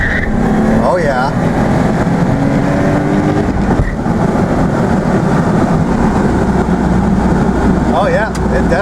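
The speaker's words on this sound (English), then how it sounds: "It'll rev out really high, and the limiter should catch it before it has time to over-rev." A car engine fitted with an aftermarket rev limiter screams at high revs during a one-wheel peel, droning loud and constant with tire noise, and brief pitch sweeps mark the limiter catching it. Voices talk over the engine.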